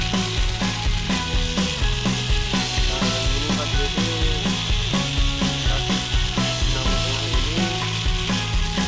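A Mini 4WD toy car chassis with gear drive runs on the bench, its small electric motor and gears giving a steady, dense, buzzing whir with a regular rhythmic pulse, close and continuous without talk.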